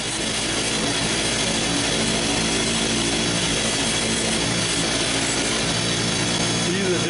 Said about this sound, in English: I'm going to take these pieces here up to the carport and buff them up on the buffing disc